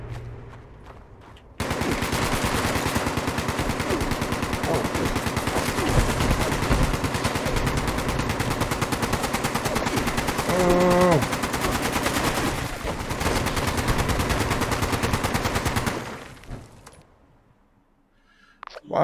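Sustained rapid automatic turret gunfire in Fallout 76, a dense, loud stream of shots running for many seconds before tapering off, with a short burst of other game noise midway.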